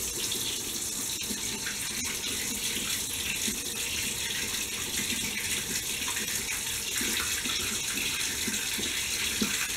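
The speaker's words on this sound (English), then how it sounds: "I'm gonna add a little bit more water to my face." Tap water runs steadily into a sink as it is splashed onto a face, a continuous close rush of flow with small irregular splashes for about ten seconds.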